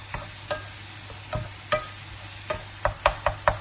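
Minced beef browning in a pan, a soft sizzle under a series of sharp scraping knocks as a utensil breaks up and stirs the meat, quickening toward the end.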